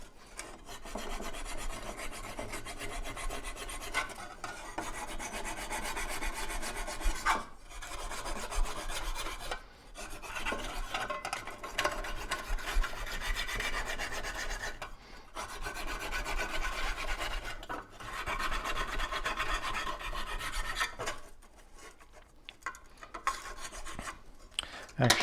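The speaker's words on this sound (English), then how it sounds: "let's just see if I can hand file it" Hand filing on a part for a 4HP air compressor remote control: steady back-and-forth rasping strokes in long bursts, close and continuous, broken by brief pauses, with no talk.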